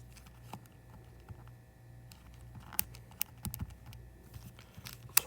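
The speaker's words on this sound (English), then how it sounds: "just going through and typing it in" Scattered keystrokes clatter on a computer keyboard in irregular bursts, with a few louder clicks near the end and a steady low hum underneath.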